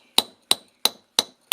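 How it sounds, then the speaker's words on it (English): Five sharp, evenly spaced strikes of stone on granite, made by hand while pecking a hole through a Viking Age quern-stone, each a loud close crack with a quick decay and no talking. "this is how you can make a hole through granite, just by beating"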